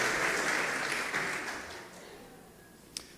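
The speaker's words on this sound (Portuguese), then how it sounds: "Vamos aplaudir ao Senhor" Church congregation applauding during a worship service, a dense, sustained wash of many hands that gradually fades out, with a brief sharp sound near the end.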